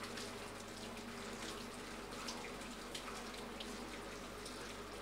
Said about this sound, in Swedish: Sen skruvar man på en kran så att den fingervarma mjölken rinner ner i ett kar.